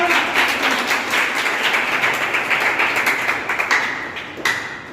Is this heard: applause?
yes